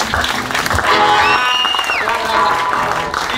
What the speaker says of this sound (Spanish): Yo quiero que con su mano hagan las palmas.